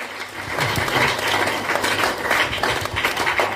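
Congregation clapping during a French and Kinyarwanda church service, a busy, fairly steady patter of many hands with some rhythmic accents, carrying on for a few seconds with no voice over it.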